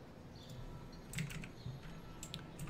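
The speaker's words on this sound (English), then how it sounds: "you can probably hear me click-clacking away on the keys" Quiet clicking of computer keyboard keys during a Magic the Gathering Arena stream, scattered taps in short bursts over a low steady hum, no talking.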